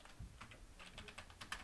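Quiet, close typing on a computer keyboard, a quick run of light key clicks in steady irregular rhythm with no talking.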